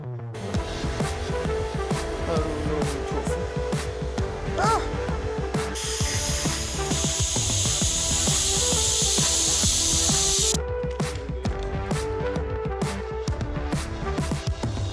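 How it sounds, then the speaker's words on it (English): Brake cleaner and compressed air sprayed on a car part from a Nissan 300ZX, a long loud hiss of several seconds over constant workshop noise and background music, with people talking. "So we got some brake cleaner, we got compressed air."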